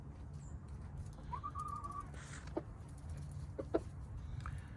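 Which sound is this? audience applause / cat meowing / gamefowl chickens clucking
gamefowl chickens clucking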